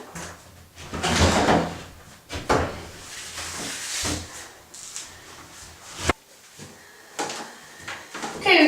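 A wooden door is lifted and set into its opening during installation, giving several bumps, knocks and scraping thuds, close and irregular, with one sharp knock midway and no talk.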